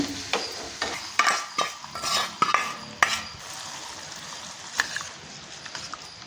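A spoon stirring hot tempering, freshly poured off the stove with turmeric, into a bowl of yogurt for a quick yogurt rasam, with scraping clinks and soft sizzling in an irregular rhythm, close up and without talk.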